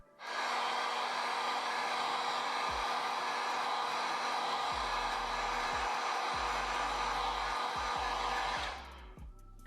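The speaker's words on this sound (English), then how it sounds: "We can use a heat gun to speed up the process." Heat gun blowing hot air over freshly painted white metallic Jordan 5 sneakers during a restoration, a steady loud whooshing roar for about nine seconds before it cuts off, close by with no voices.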